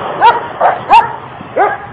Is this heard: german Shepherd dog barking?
yes